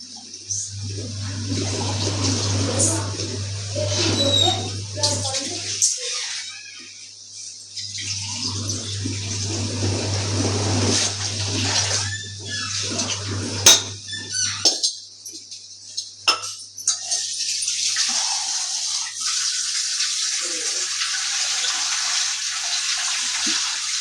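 Water pours in two long bursts into a cooking pot for mushroom biryani, with a low hum, a few metal clinks and a brief pause between pours.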